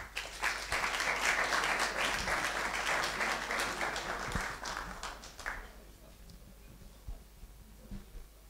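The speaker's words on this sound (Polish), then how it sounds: "a państwa prosimy o brawa" An audience applauds at an award ceremony, steady clapping for about five seconds before stopping abruptly, leaving a quiet room with low hum and a few scattered sounds.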